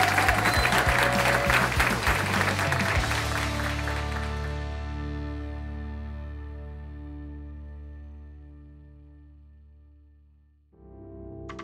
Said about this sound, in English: Can we have another round of applause to our graduates?